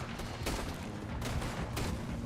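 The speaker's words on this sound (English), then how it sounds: "Damn, what are these shots?" Gunfire in Red Dead Redemption 2 during a shootout with guards by a wagon, a dense fusillade of overlapping shots over a constant loud roar, with sharp bursts standing out roughly every half second.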